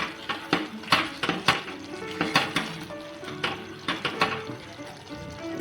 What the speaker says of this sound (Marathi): आता आपण याच्यामध्ये टाकणार आहोत कोथिंबीर आणि आता आपण मिक्स करून घेऊया